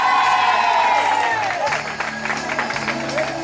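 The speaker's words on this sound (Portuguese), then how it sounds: "Uma salva de palmas, galera!" A church crowd at an evangelical celebration in São Paulo's Zona Leste breaks into applause and cheering, with mixed voices and a whistling tone under the clapping, fairly close and loud.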